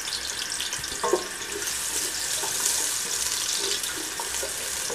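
Chopped onion hitting hot oil in a pan gives a steady, hissing sizzle that stays even and moderately loud throughout, with a faint clink near the start and no talking.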